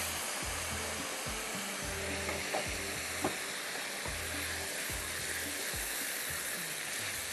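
Chili chicken frying in a pan, a steady loud hiss of sizzling oil with low rhythmic thumps and a couple of brief clinks from the spoon or pan.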